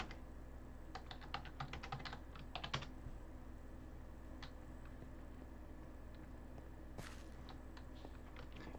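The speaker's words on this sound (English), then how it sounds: "Having trouble typing still." Quiet computer keyboard typing comes in clustered bursts of close key taps with pauses between, over a faint steady background hum.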